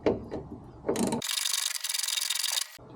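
Socket wrench turning bolts on the hood of a Ford Focus RS, a close, loud ratcheting clicking run lasting over a second after a few brief rubbing, scraping strokes.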